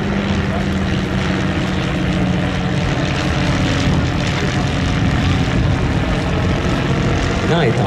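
L3 and L5 propeller airplanes fly at an airshow. Their engines give a loud, steady drone that fills the whole stretch, and a commentator's voice runs beneath it.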